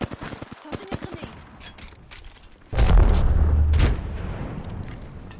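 Grenade exploding after being tossed in a first-person shooter game, a few sharp gunshots first, then a single loud deep blast near the three-second mark that rumbles for about a second before fading under speech.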